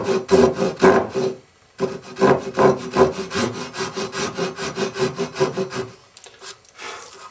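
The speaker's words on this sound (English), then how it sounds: "saw down to release the wedge" A hand saw cuts through wood to free a wedge for a honing guide, with quick rhythmic rasping back-and-forth strokes, close and clear, pausing briefly twice before a few final short strokes.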